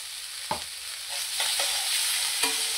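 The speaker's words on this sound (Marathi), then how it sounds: "आता आपण अद्रक लसूण वाटलेली ही पेस्ट ही टाकून घ्यायची।" Ginger-garlic paste fries in a pan for hotel-style chilli paneer, a steady broadband sizzle with a few sharp stirring clicks and scrapes of the spatula against the pan.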